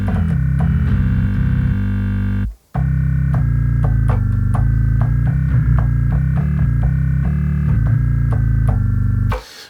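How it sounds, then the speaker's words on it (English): A bass sounds through a Neural DSP model of the Darkglass Microtubes B7K Ultra distortion pedal, giving thick, gritty sustained notes with a brief dropout, layered under a steady rhythmic mix. "bass distortion DI EQ pedal. Makes the bass sound like this."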